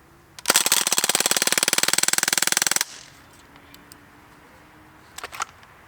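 An AR-15 rifle fires a fast, loud string of rapid shots lasting about two seconds and then stops abruptly, leaving a quiet background with a couple of faint clicks afterward.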